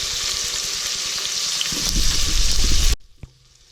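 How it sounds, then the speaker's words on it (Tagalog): Garlic, onion and tomato sautéing in a hot pan for Filipino ginisang sardinas, giving a steady close sizzle that grows louder and busier with stirring, then stops abruptly, leaving near silence with a single faint knock. "Medyo lutuin lang po natin ang bawang, sibuyas at kamatis bago po natin lalagay ang ating mga ibang sangkap."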